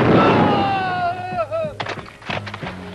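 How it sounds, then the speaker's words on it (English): A rifle volley fired on command in a 1979 comedy film, heard as a sharp burst of overlapping gunshots after a shouted order, followed by scattered smaller pops and voices. "Ready, aim, fire!"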